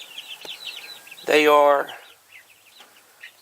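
A backyard chicken lets out a loud, drawn-out squawking cluck beside a poultry cup watering system, with softer bird chirps around it and someone talking briefly.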